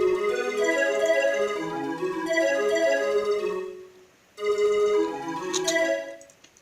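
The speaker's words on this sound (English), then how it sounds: "I went to Silent One and I got this key pan flutes" Synth pan flute lead from the Silent One plugin plays a breathy melodic phrase up close, pausing briefly before a second phrase with a bright airy accent near the end; no talking.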